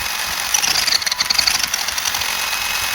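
A Hobbytech Rogue Terra RC monster truck's electric motor whines under throttle, a high pulsing pitch rising and falling in short bursts mid-clip over a steady background buzz, with no talking.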